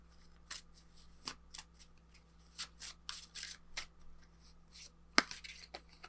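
Affirmation cards are handled and shuffled close up, with soft irregular riffles, rubs and taps, some crisp snaps standing out over a quiet hum.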